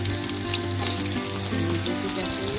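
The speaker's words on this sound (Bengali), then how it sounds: "এই যে আমি মাছগুলোকে ভেজে নিচ্ছি" Small puti fish fry lightly in hot oil in a pan, giving a loud, steady, close sizzle that crackles without a break.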